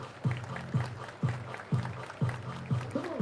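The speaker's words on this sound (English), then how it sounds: "Everybody clap your hands." Rhythmic hand clapping from a baseball crowd at a Double-A game, steady beats roughly every half second, moderately loud with a murmur of ballpark ambience behind.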